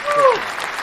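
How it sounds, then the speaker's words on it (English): A crowd claps in a brief round of applause, a short dense burst with a voice briefly rising over it. "round of applause"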